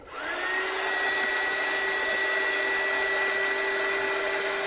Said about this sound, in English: I'm just going to quickly dry it with my dryer